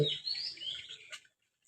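Birds chirping at River Queen Park, a few high, thin calls overlapping over roughly a second, fairly close and clear, then a short final chirp before falling silent.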